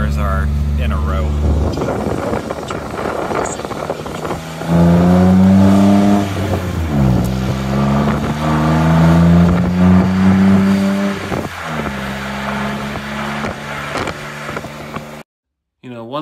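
Cars drive in a line at the Rustbelt Ramble 2022 rally, with engines droning and revving loudly and steadily while people talk over the sound, ending in a brief drop to silence.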